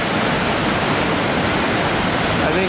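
River water pours over a 4-foot drop-off into a pool, a dense, steady, loud roar with no breaks.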